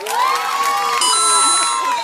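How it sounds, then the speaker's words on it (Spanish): A crowd of children cheering and shouting loudly, high excited voices close by with some applause underneath. "Ok, aplausos para él."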